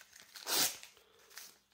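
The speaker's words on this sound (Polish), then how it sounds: "Wafelki jakieś otwieram. Sztywny ten papier." One sharp rip as a stiff paper wafer wrapper is torn open, a brief crisp tear with faint crinkling before and after.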